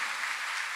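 A church congregation claps for youth worship leaders during a testimony service, a brief, even hiss of massed applause from many hands, soft and somewhat distant, with no voices.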